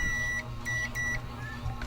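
Multimeter continuity buzzer on a Bluetooth speaker board being checked for a shorted SMD capacitor, giving steady high electronic beeps in short repeated bursts, close and clear over a low background hum.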